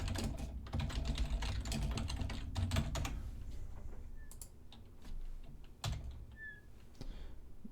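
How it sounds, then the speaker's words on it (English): A computer keyboard rattles with rapid bursts of keystrokes early on, then slows to sparser, scattered clicks and taps, close and clear. "I'm going to type"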